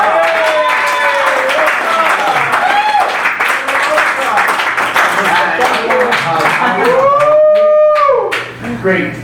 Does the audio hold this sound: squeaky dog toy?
no